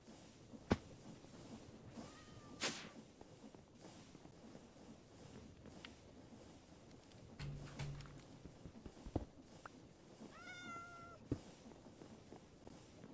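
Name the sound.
cat meowing in the video game Minecraft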